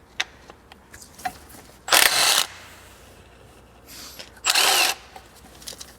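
Two loud bursts from a power tool working the idler pulley bolt on a Lexus LS460, each lasting about half a second, with quiet shop background between them.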